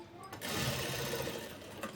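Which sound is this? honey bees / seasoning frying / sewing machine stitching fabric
sewing machine stitching fabric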